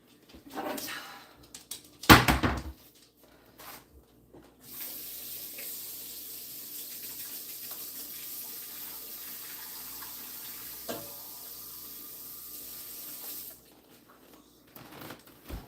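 Kitchen tap water runs steadily into a cup for about nine seconds after a few clunks and a loud knock, then the flow stops and faint handling noises follow.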